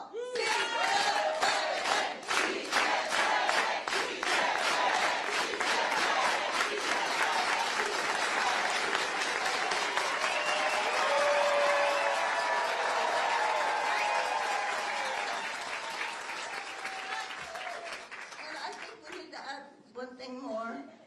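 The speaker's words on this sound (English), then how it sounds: "let's all do it with organized hand clap" A large crowd at a political rally for a California ballot proposition breaks into rhythmic organized hand clapping mixed with cheering and chanting, loud and sustained, easing toward the end.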